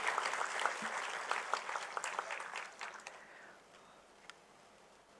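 Audience applause at a GST Day celebration with the Governor of Tamil Nadu, honouring selected awardees, heard as a fairly faint, distant ripple of clapping that thins out and fades over a few seconds.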